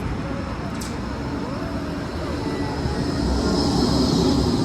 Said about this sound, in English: Whilst we get the tram